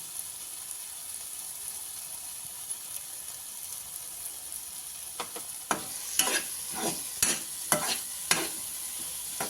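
Spiced masala for masala pav sizzles softly in a pan with a spoonful of Schezwan chutney, a steady low frying hiss followed by a cluster of sharper stirring scrapes near the end.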